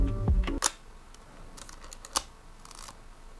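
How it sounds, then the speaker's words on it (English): Shutter of a new Leica M6 film camera fired a few times, giving sharp isolated clicks spaced apart at close range after a brief low handling rumble, no talking. "Listen to the shutter."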